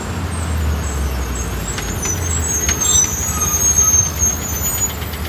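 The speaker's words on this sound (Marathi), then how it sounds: "चल बस आली" A city bus pulls in at a busy roadside stop on a Sunday morning, its engine a steady nearby rumble with a brief hiss of air brakes amid street traffic.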